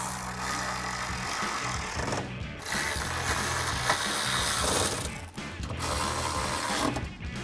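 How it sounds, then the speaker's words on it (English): A hand ratchet fitted with a short 10mm socket tightens bolts on the hood of a 2021-2025 Ford Bronco, giving a steady run of fast clicking strokes at close range with brief pauses between pulls. "Grab a ratchet, short 10mm socket, and tighten these down."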